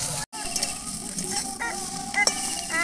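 Drumstick (moringa) stalks frying in hot oil in a pan, giving a steady close sizzle with occasional stirring clinks and scrapes, no voices.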